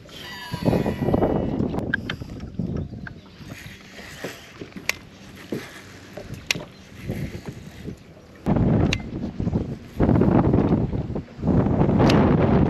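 Gusty wind buffets the microphone on a fishing boat on the California Delta, coming in loud roaring bursts with quieter lulls and some faint mechanical clatter between them, with no talk.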